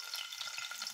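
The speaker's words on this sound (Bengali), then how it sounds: "রসুন দিয়ে দিচ্ছি তেলের ভিতরে" Garlic sizzling in hot oil in a pan on a stove, a steady close crackling fry with no talk.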